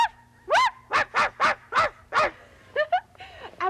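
A human voice imitates a small female dog yapping, giving about eight sharp, high yips in quick succession, each short and close, with brief pauses between.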